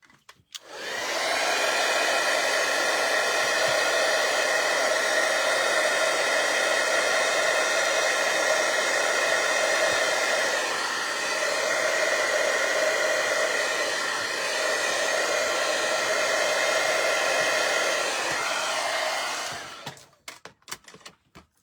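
A dryer blows a continuous loud, even whoosh at close range to dry craft paint, holding steady for about twenty seconds before cutting off abruptly, with no voices.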